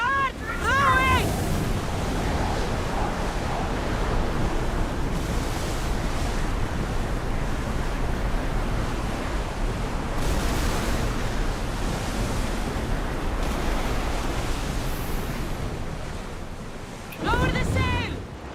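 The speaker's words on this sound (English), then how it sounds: "Start rowing!" A ship being rowed at sea in Assassin's Creed Odyssey: a steady, loud roar of waves and rushing wind, with brief shouted voices at the start and near the end.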